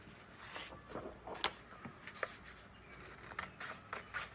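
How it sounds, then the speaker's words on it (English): Scissors snip through a clear acetate sheet, a series of quiet, close crisp cuts and scraping slides of the blades repeating every half second or so. "So I'm just going to cut out the acetate."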